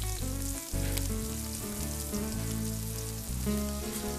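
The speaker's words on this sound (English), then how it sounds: "When one side of the meat is seared, turn it." Meat sears in a hot pan with a steady, close sizzle and crackling fry that runs unbroken and fairly loud, with no voices over it.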